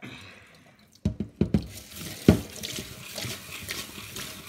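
Water swished and splashed in a small container while washing gravel for a betta fish tank: a few sharp splashes and drips, then a steady wet sloshing that continues to the end.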